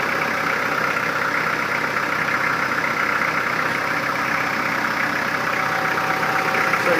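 A Kubota L4240HST-3 tractor runs its hydraulics during a 72-inch snow blower install, its engine holding a steady, loud, continuous drone without pause or talk.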